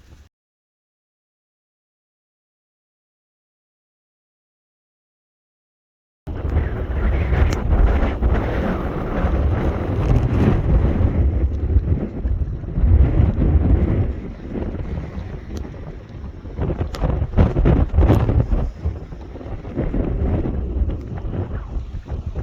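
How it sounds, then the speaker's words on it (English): Strong wind buffets the microphone beside a Scottish hill loch, a loud, continuous roaring rush with gusting surges after an initial stretch of silence. "Definitely is pretty breezy today"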